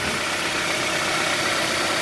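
A Honda Prelude engine idling with an oil leak dripping steadily from near the oil pressure sending unit, a steady, close, even mechanical hum with a low rumble and no talk.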